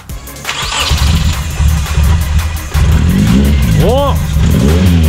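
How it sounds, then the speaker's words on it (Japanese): A flood-damaged Nissan Primera Autech (HP10) engine cranks and catches, settling into a loud, steady idle that revs up, with a brief voice near the start. "水没な車がですね、今エンジンが始動しました。"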